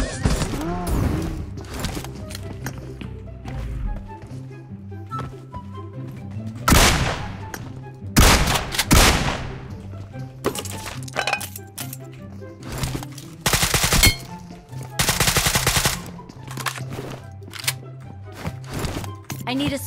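ACE32 rifle gunfire in the video game PUBG Mobile, several loud bursts of rapid shots spread across the stretch, mixed with game sounds and someone talking over it.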